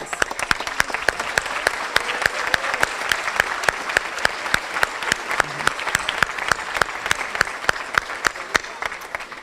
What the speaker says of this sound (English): please stand up and take some applause